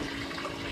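Water rushes steadily into a boat's live well during a catfish tournament, a brief close wash of pouring and churning water.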